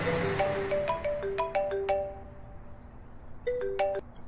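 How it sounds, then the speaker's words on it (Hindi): A mobile phone ringtone plays a bright, melodic sequence of tones in two bursts with a short pause between, clear and alone. "तभी उसका फोन बजा।"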